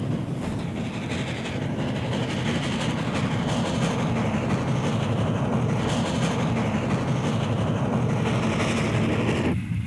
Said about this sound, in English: Here we see the Platte Valley Express, a mixed freight eastbound